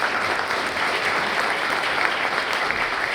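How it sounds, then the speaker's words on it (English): Delegates at an International Telecommunication Union council meeting give a steady round of applause, a dense sustained clapping from the room with no one speaking. "I'll say we give them a round of applause for all they've done"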